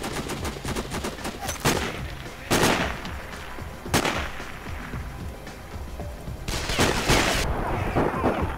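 Sniper rifle shots in Sniper Ghost Warrior 3 crack out sharply, four or five distinct loud reports spaced a second or more apart amid busy game noise, with someone talking in between.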